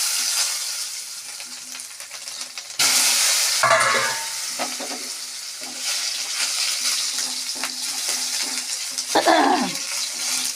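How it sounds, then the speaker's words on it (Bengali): Potatoes tipped into hot oil with cumin seeds, then stirred in a pan: a loud burst of sizzling at the start, followed by scraping stirs and steady crackling that swell and fade in turn, with no talk. "এবার এর মধ্যে আমি আলুগুলো দিয়ে দিচ্ছি।"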